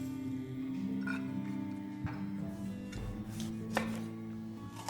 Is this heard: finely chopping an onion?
yes